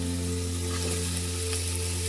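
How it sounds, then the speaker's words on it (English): Spices such as onion, bay leaf, dried red chili and ginger fry in rendered pork fat, giving a steady, even sizzle close by with a low electrical hum underneath and no talk. "the fat oil from pork comes out. This assists in frying process."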